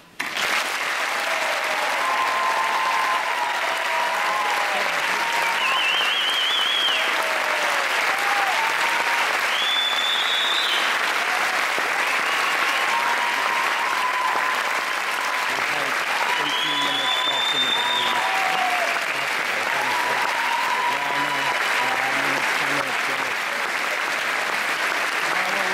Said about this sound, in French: je vous invite tous et toutes à les applaudir.